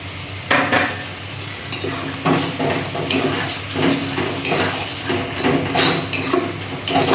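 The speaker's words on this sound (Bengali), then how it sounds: "এখানে মশলা বাটার জলটা আছে এই জলটা দিয়ে দিলাম" Spice paste water goes into a hot pan for a katla fish curry, raising a steady sizzle broken by repeated scraping and clinking as a utensil stirs against the pan.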